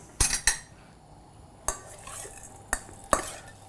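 An egg mixture with a pinch of salt is stirred in a bowl, giving a few sharp, spaced clinks of utensil against the bowl over quiet background.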